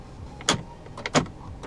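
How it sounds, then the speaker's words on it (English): Central locking on a 2014 Hyundai Elantra 1.6 actuates inside the car, giving two or three short, sharp mechanical clunks spaced about half a second apart over quiet cabin background. "Central locking."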